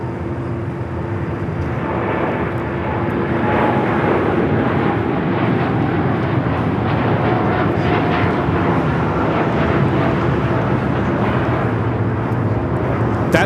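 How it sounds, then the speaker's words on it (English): A United Airlines Boeing 787-9 Dreamliner jet takes off at LAX, a loud sustained engine roar with low rumble building slightly, heard from a distance outdoors without talk. "That is United Airlines Flight 32 taking off to Tokyo Narita on the 787-9 Dreamliner."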